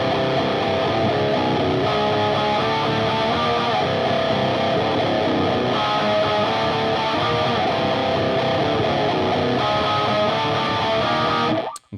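Electric guitar with distortion slowly grinding through a power-chord riff, a dense, continuous heavy wall of sound that cuts off abruptly at the end.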